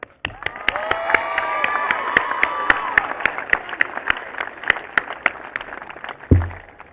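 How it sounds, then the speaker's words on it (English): A graduation audience applauds for parents and family, steady claps and some cheering from a crowd filling the room for several seconds before fading near the end. "give a round of applause for your parents, siblings, and family as a whole"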